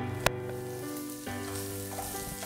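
Sliced onion and green chili hit hot oil in a pan for a Thrissur-style mutton stew, bursting into a steady, dense sizzle up close after a sharp clatter of contact.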